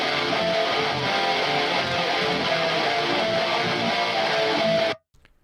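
Electric guitar played through the Archetype Gojira amplifier plugin, a dense, sustained distorted tone running steadily for about five seconds before cutting off abruptly, with no voices present.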